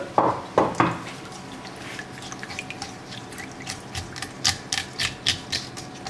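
A utensil scrapes a pan while duck breast orange sauce reduces, giving a run of short rhythmic scrapes and clinks that grow more regular toward the end, close and moderately loud with no talk.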